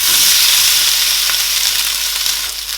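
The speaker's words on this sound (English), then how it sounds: "I am going to add a tiny bit of oil, and I am going to add our sausages" Sausages sizzle loudly in a little oil in a pan on the stove, a dense, steady frying hiss with faint crackles that eases slightly toward the end.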